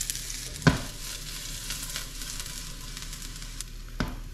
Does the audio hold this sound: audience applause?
no